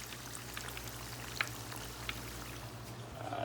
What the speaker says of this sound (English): Into the water bath, into the cold water, ice cold water plunge.